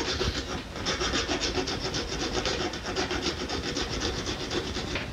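A wooden board bow is smoothed by hand at its limb transition, producing a steady rhythm of rasping, rubbing strokes, close and continuous with no talk.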